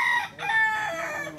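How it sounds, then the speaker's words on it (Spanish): A rooster among domestic fowl in pens crows loudly and close by, one long drawn-out call that fills most of the moment. "Las aves corretean por los corrales sin ningún problema"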